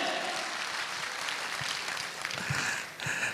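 Audience clapping in a workshop hall in Nainital, a steady wash of applause throughout at moderate level, fading slightly near the end.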